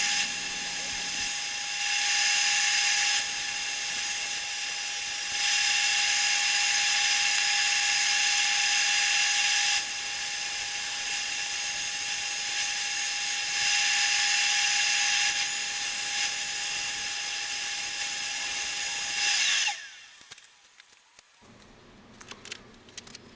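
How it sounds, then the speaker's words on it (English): A drill motor spinning a sanding pad against a surface hums as a steady, loud whir with a high whine, swelling and easing in long passes for about twenty seconds, then cutting off to quiet handling noises. "I have 2 different drill motors, one with a hard backed sanding pad and the other with a soft sanding pad"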